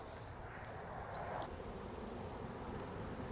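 A swarm of honeybees gathered in a box after being caught from a bush gives off a steady, close buzzing drone that holds evenly throughout, with no talk over it.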